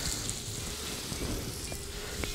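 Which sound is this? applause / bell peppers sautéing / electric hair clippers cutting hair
bell peppers sautéing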